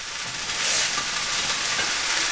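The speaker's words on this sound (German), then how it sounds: "lass den Fisch hier weiter brutzeln" Steady, close sizzling of fish frying in a hot pan, a continuous crackling hiss with no voices.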